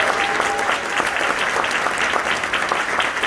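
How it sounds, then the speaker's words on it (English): An audience at a regional school band event applauds first-time band parents, with many hands clapping in a dense, lively patter that stays strong and continuous throughout and carries some crowd murmur. "Round of applause to these people"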